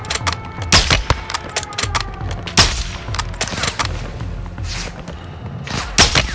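Gunfire in the shooter Call of Duty: Modern Warfare II campaign, a loud, close series of sharp shots in irregular bursts and single cracks with heavy thuds throughout, no talking.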